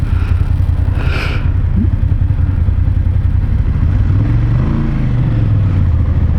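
A motorcycle engine revs loudly and close on an Alpine motorcycling trip in Europe, with a steady throaty rumble and a rising, wavering pitch toward the end.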